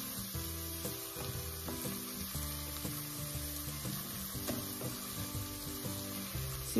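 Chopped onion sizzling steadily in a hot pan as the base for a Brazilian potato cream soup, a continuous close frying hiss with occasional stir scrapes and no talking.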